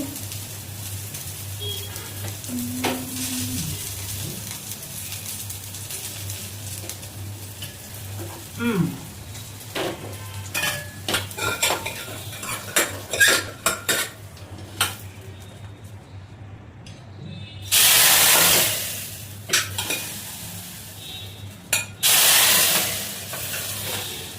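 Spices and onions tempering in hot oil for a traditional kara kuzhambu, a low background sizzle with scattered clinks, then two loud bursts of sharp hissing spitting near the end.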